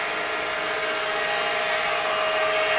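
LeBlond Makino Regal Servo Shift engine lathe, 15 by 54 inch, spinning at 937 RPM, hums with a smooth, even whine and steady broadband whir, close and constant, nothing else heard.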